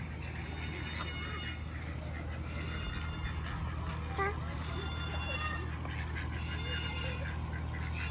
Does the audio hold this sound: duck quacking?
yes